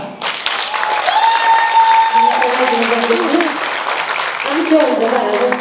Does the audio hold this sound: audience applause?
yes